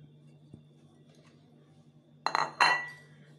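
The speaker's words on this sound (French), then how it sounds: "je prends une assiette, j'y verse un peu d'huile d'olive" A plate is picked up and set down, giving two quick ceramic clinks close by after a quiet stretch, while olive oil is poured onto it.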